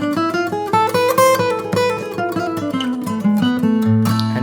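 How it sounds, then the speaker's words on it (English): Electric guitar running up and down a harmonic minor scale in a steady run of single notes. It is played alone and up close over a sustained low tone, with a jazzy, gypsy-flavoured lead tone. "harmonic minor scale sounds like this."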